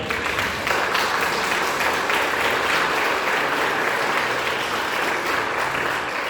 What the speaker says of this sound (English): A round of applause to all of them.